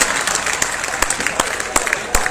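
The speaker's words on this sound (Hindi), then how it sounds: "बजाओ जोर से ताली।" An audience at a comedy poetry gathering claps steadily, a dense patter of many hands with a few sharper claps standing out, fairly close and with no voices over it.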